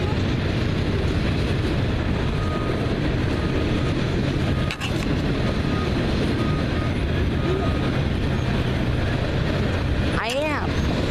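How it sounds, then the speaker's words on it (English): A train passes at the Olde Town Gaithersburg station as a continuous rumbling roar, heavy and close, with a brief squeal near the end. "We just saw a train."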